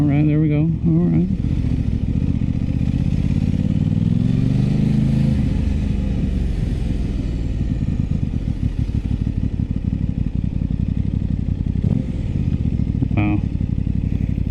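An Aprilia RS 660 sport motorcycle rides along steadily with a loud engine drone, climbing and shifting pitch as it accelerates, with a brief throttle blip near the end and a rider speaking at the start.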